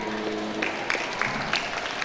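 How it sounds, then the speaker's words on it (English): Audience clapping after a student's performance at a high school speech contest, a steady patter of many hands in a hall, moderately loud and continuous without speech over it. "So give her a big applause again."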